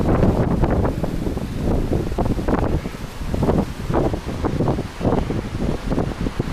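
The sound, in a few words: strong wind blowing on the camera microphone by the sea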